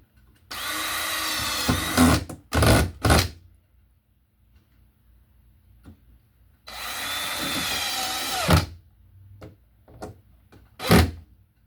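Power drill driving screws to fasten a wiremold electrical box to a wall: two loud, close bursts of whirring, each about two seconds long, with short clunks after them and quiet gaps between.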